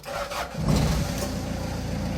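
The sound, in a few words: Hyundai Porter diesel truck engine starting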